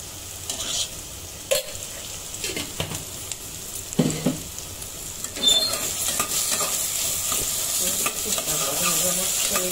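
Chana masala sizzles in a pan as ghee is added, with several sharp spoon knocks and stirring strokes before the frying hiss swells and holds steady.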